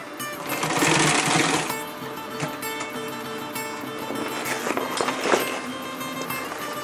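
A sewing machine stitches a 50-litre rollup backpack, running in a fast, steady mechanical chatter up close, loudest in an early burst and then continuing in shorter runs with small clicks and handling noises, no speech.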